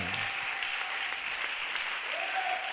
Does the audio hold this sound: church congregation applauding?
yes